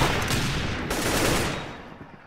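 Rapid gunfire in the Roblox game Arsenal crackles in dense bursts, loud and close, then tapers off toward the end.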